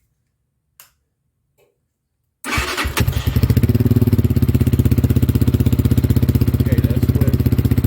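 A KPM200 motorcycle with a baffled muffler fires up after a near-silent start and settles into a loud, steady idle with a rapid, even exhaust pulse; a brief word is spoken before it starts.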